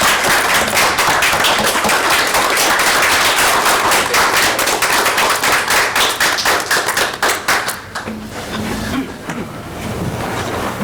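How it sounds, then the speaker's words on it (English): A loud, dense round of applause for two honorees at a Mountainside, New Jersey council meeting, many hands clapping close by before thinning out near the end into room noise. "Let's give them a big round of applause."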